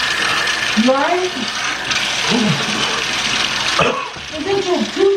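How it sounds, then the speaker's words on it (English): A bathroom tap runs cold water in a constant rushing hiss, close and fairly loud. Voices speak over it at intervals and a brief clunk comes near the end. "Brian, run, put cold water on."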